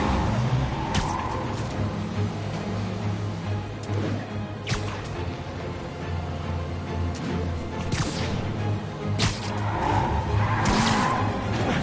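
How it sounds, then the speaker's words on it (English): In a Spider-Man video game car chase, tires skid and squeal repeatedly over a roaring engine, with sharp screeches recurring every couple of seconds. "Now I just have to stop that car."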